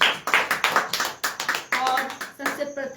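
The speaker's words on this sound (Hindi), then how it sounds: "तालियां बजाएंगे हम सभी एक दूसरे के लिए।" A church congregation at a Sunday prayer service breaks into applause, bursts of clapping from many hands rising and falling in quick waves, fairly loud and close, with a few voices mixed in toward the end.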